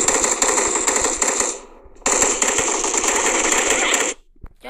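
Sustained automatic gunfire from a shooting video game, loud and close, with two long bursts separated by a brief pause and ending abruptly.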